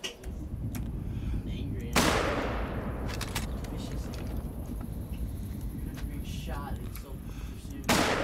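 Hunting rifle shots ring out in the video game theHunter Call of the Wild on an African buffalo hunt, two loud sharp blasts several seconds apart with rolling echo between.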